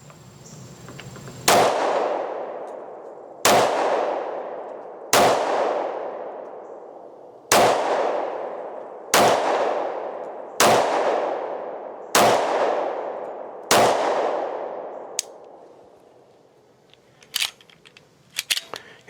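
A 1911 pistol fires eight sharp gunshots from its factory magazine at an even pace, each a loud crack with a ringing decay, followed by faint metallic clicks and handling noises.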